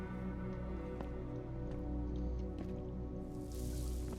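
Water running from a faucet in the video game Deus Ex: Human Revolution, a steady soft splashing stream with small drips layered over a low ambient game hum, no voices.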